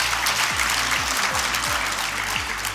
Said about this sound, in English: Please let's give you a round of applause.